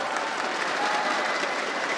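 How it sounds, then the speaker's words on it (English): An arena crowd at a Rainbow Six Siege esports tournament quarterfinal claps steadily, dense applause filling the whole moment without letup. "Round of applause, then. Yeah, everybody cheer."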